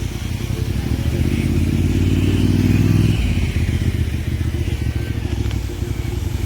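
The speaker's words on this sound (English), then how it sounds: "There's a lot of bikes out tonight." Motorcycles and cars rolling along a downtown Naperville street at night, a loud rumbling engine drone that swells to a peak and then eases into steady passing traffic noise.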